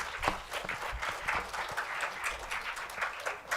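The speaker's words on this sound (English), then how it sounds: "please give him a big round of applause" Audience applauding a speaker at the close of a personality development session, a steady wash of many hands clapping that carries through the whole stretch without a break.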